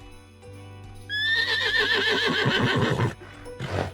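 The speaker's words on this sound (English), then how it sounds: "What sound does a horse make?" A horse whinnies once, loud and close: a descending, shaky neigh of about two seconds that ends in a snort.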